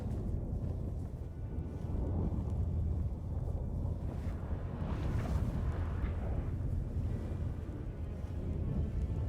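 A storm rises in The Witcher 3: Wild Hunt, a steady low roar of wind and rumbling with a swelling gust in the middle, broad and continuous, with no voices over it.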